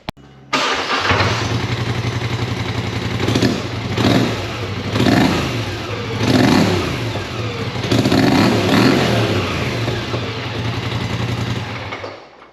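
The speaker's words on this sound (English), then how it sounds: "We'll give it a couple of revs with the stock exhaust" A Polaris Sportsman 850 or 1000 side-by-side with its stock exhaust starts up and idles, then revs in several throttle blips. The engine stays loud and close, with a steady idle between the surges and no talk over it.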